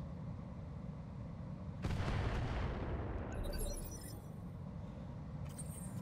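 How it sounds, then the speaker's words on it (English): Mortar fire in the mech combat game Roguetech: a single loud, sustained blast rolls in and decays over several seconds against a steady low rumble of background engine noise, followed by faint crackling debris. "Mortars."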